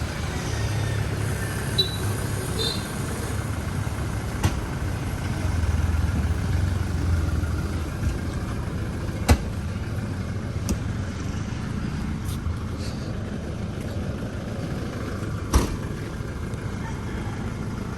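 Steady low engine rumble heard from inside a moving multi-cab vehicle, a continuous droning hum with occasional faint clicks and knocks, no voices over it.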